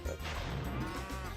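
A cartoonish cow moo from the cowlick creatures in the Spyro 2 video game, a short sustained low bellowing call lasting about a second, heard clearly and fairly loud.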